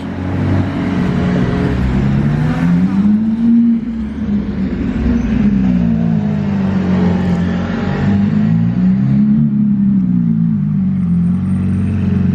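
A Lamborghini Aventador SVJ driving up a street, its engine droning loud and near with rising and falling revs in slow waves, alone without talk.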